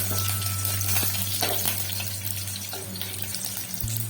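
Curry leaves dropped into hot oil with browned onion for a Malvani kingfish curry, a close, continuous hissing sizzle with watery crackle and a few soft stirring scrapes.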